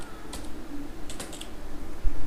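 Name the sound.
typing a password on a computer keyboard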